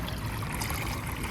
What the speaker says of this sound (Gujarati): પાણી પડી ગયું.